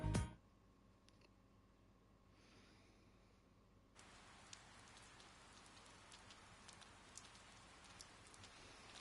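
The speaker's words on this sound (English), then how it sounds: "Oh, this rain. I hate rain." Rain falling in the video game Persona 4 Golden, a steady hiss of raindrops that starts after a brief thump and quiet stretch, then continues faintly with scattered drips.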